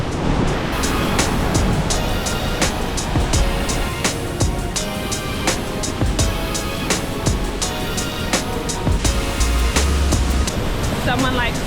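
A huge waterfall at Hunua, New Zealand roars in a constant loud rush of falling water, dense and unbroken. Sharp clicks and small knocks sound now and then over the steady wash.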